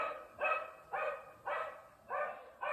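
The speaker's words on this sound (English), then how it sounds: "You're going to have to listen to this dog." A dog barks four times in an even rhythm, each bark a short sharp yap with pauses between, fairly faint and with no talk over it.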